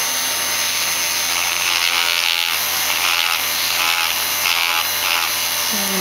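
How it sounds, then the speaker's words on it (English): A mini bench grinder's flexible shaft fitted with a Dremel bit works into wood, giving a steady, close high-pitched rotary whine with slight load variations throughout. "Here's the flexible shaft. I just attached a bit from my Dremel kit there."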